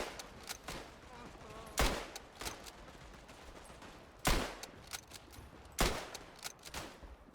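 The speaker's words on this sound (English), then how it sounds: "just having to shoot off some Bulgarians that are in the way" Gunfire in the Tannenberg video game at a Przemyśl fort battle: sharp individual shots spaced a second or two apart, with a few louder cracks standing out over a low, busy battle background.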